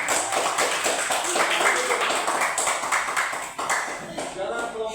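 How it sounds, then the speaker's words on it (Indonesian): A school class claps for group 2 in a classroom, a lively, uneven burst of many hands lasting several seconds and thinning slightly toward the end, with some voices mixed in. "tepuk tangan untuk kelompok 2"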